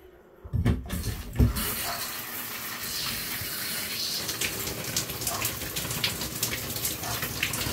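Hot water running from a tap, a steady broadband splash and gush that begins after a couple of knocks and continues unbroken at close range, with no talk over it.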